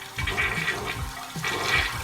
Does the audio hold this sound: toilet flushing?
yes